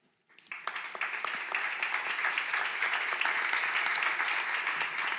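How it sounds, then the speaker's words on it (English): Audience applause for a cybersecurity standardisation conference panel, starting abruptly after a brief pause and building into steady, dense clapping from a large room that continues evenly to the end. "Can I get a big round of applause for Camille Dornier, Kia, Francois,"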